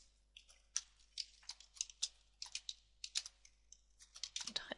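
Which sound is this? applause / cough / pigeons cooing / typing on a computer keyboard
typing on a computer keyboard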